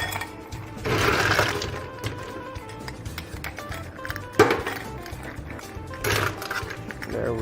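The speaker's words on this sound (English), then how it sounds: "Add ice in the glass." Ice cubes are dropped into a rock glass while preparing a margarita, giving a few clattering, cracking bursts of clinking and tumbling against the glass over a low background hum, moderately close.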